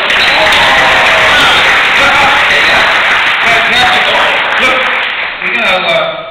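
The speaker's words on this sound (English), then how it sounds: "Give yourself a round of applause." An audience at a Star Wars Weekends stage show applauds in a sustained wave of clapping with scattered whoops and cheers, loud and close, tapering slightly near the end.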